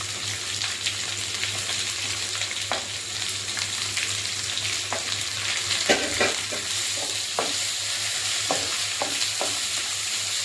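Two sliced onions fry in a pan with dried red chillies, giving a steady sizzle topped by intermittent sharp scrapes and spatula stirs.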